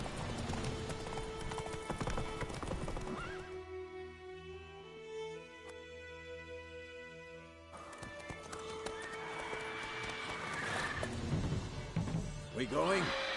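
Roach, the horse in The Witcher 3: Wild Hunt, gallops with loud, rapid clip-clop hoofbeats and whinnies, under game music and shouting voices.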